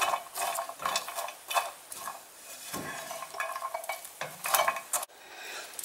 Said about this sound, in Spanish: Voy a revolverlas ahora.